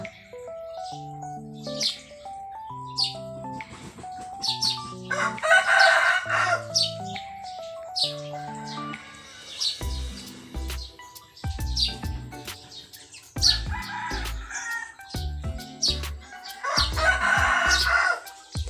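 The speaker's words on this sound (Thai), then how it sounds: "เสียงไก่นะคะ ทุกคนพี่ไก่แกล้งเราอีกแล้วนะคะ" A rooster crows repeatedly, loud and close, in a garden where plants are being propagated from cuttings, the crows alternating with a melodic musical backing of plucked tones and low thumps.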